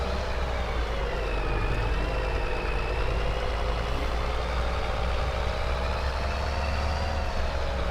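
Steady diesel engine drone of a flatbed truck in Farm Sim 22, running continuously at a constant moderate level with a faint whine rising and falling slightly, nothing else over it.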